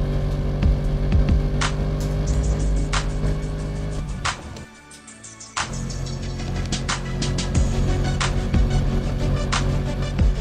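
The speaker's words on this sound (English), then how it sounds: "Let me speed up the car a bit more." A Rolls-Royce Phantom driven on a racetrack in the Second Life game, its steady engine drone and harmonic whine rising and holding, with a brief dip in the middle before the engine note returns strong, punctuated by sharp clicks.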